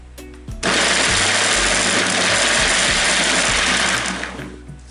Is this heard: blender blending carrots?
yes